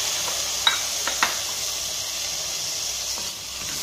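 Chopped carrots fry in a pan for a foxtail millet and sago khichdi, producing a continuous, close hiss and sizzle with a few faint scrapes near the start.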